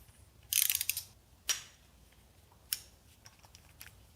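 A torque wrench clicks and ratchets while bolts on a Ford FE 390 engine are tightened, giving a few sharp, close mechanical clicks and short ratcheting bursts spaced by quiet pauses.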